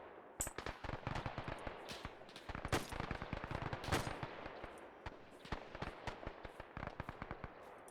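Gunfire from a World War II-era gun in the Task Force Athena video game, set on Guadalcanal: rapid, irregular bursts of sharp shots with a few louder cracks, continuous throughout, with no talk.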